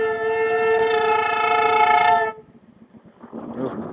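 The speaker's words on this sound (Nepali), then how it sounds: "ट्रेन पनि आयो." Train horn sounds loud and steady for about two seconds, then cuts off, leaving the rumble and clatter of a passing train with road noise from a short ride near Dali Monastery.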